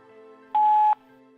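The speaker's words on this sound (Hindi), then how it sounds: "बीप के बाद अपना मैसेज रिकॉर्ड करिए।" A single loud, clean electronic tone from an answering machine, held for about half a second before message recording starts, over a quiet background hum.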